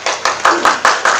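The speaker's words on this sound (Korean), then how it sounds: "대표님께 큰 박수 부탁드립니다" Clapping rings out at a startup demo day as a company founder is introduced for a pitch: about six loud, evenly spaced hand claps, close and crisp, in a quick steady rhythm.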